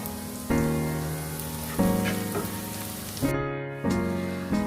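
Hot oil, reused from the pan that roasted chicken, is poured into a cooking pan, each pour setting off a sharp sizzle that crackles and fades, repeated in several loud bursts.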